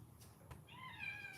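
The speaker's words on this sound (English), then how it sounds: "That's a kitty cat." A house cat gives one drawn-out, clear meow at close range in a quiet room, preceded by a couple of faint soft knocks.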